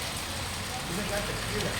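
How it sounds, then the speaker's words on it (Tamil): Heavy rain pours down in a steady, dense hiss of drops striking surfaces, recorded close and continuous. "செம்மையாக இருக்குது மழை."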